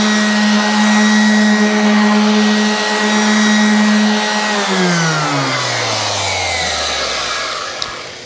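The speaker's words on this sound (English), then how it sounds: "I just went ahead and sanded all the slight overhangs" A power sander runs on glued wood overhangs of a floating mantle, a loud steady motor whine heard alone that spins down in pitch near the end as the tool winds off.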